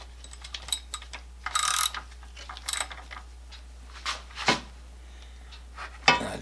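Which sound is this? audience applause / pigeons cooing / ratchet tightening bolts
ratchet tightening bolts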